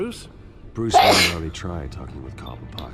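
A single sharp sneeze lands near the middle of a scene from Batman: The Telltale Series, Episode 2, with people talking before and after it.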